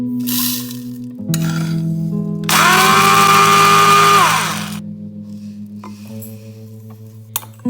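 Electric grinder roughly grinding whole spices for green chilli pickle, a steady motor hum with a loud grinding burst of about two seconds in the middle, no talking.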